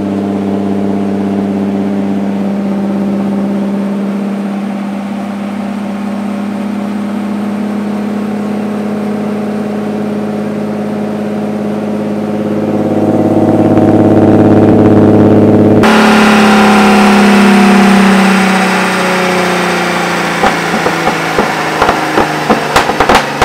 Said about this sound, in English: doing like these little mild pulls on the dyno, and he revs it up and then lets it decelerate